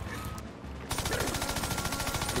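Rapid bursts of cartoonish gunfire from the Worms video game erupt partway through, a dense rattling volley that continues loud to the end after a quieter stretch of game sounds.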